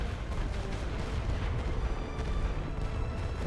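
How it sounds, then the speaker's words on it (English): An artillery rolling barrage in The Great War: Western Front video game forms a dense, continuous rumble of overlapping booms, steady and heavy throughout with no pauses. "that was a rolling barrage"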